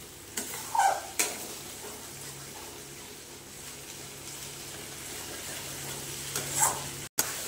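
Cashew paste masala stir-fried in a pan for chicken rezala, a soft continuous sizzle broken by a few clinks and scrapes of the spoon near the start and end, with no voices.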